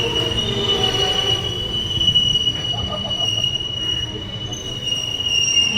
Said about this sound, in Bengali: শিয়ালদা থেকে ছেড়ে 718 কিলোমিটার ডিস্টেন্স কভার করে ফাইনালি ট্রেন এসে পৌঁছালো নিউ আলিপুরদুয়ার।